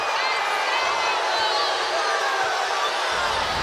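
Indiana crowd at a WNBA basketball game in a steady, loud roar of voices and cheering, a dense unbroken arena wash filling the whole moment.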